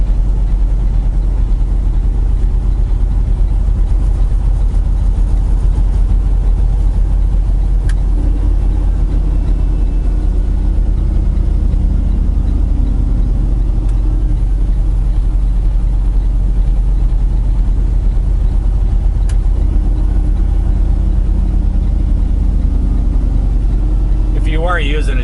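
Truck engine running steadily throughout, shifting back and forth between high and low range with subtle changes in engine note, a brief rise near the end; loud, continuous and close, with no clear talk over it.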